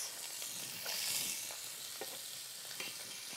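Peppers and onions sizzle in oil in a skillet, a steady close frying hiss with a few soft stirring scrapes and no talking.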